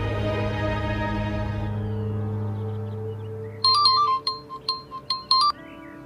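A phone ringtone chimes in a quick series of bright, clear bursts over a fading sustained musical tone, an incoming call with no one speaking.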